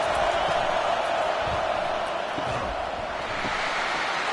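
Stadium crowd noise in a college football video game on a third-down defensive stand, a dense steady roar that stays loud and fills the whole stretch without a break.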